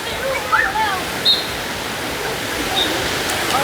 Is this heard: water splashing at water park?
yes